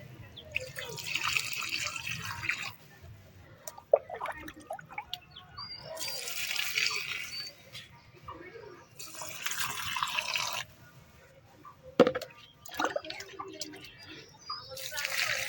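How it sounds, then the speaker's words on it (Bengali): Water poured onto plants, including chrysanthemums, in a swept village courtyard: several bursts of splashing and trickling, each a few seconds long with pauses between, fairly faint, with someone talking over it and birds faintly in the background. "তো গাছগুলোতে এখন জল দিয়ে দিই"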